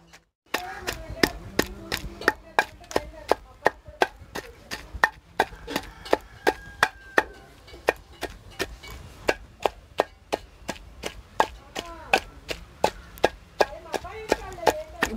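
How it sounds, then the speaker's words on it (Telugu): Tomato chutney is pounded in a stone mortar, producing sharp, regular thuds roughly twice a second that repeat steadily throughout, close and distinct, with faint softer grinding between strikes. "ఇప్పుడు మనం పచ్చడి నూరేటప్పుడు ఇట్లా అనుకుంటున్నారు అన్నమాట"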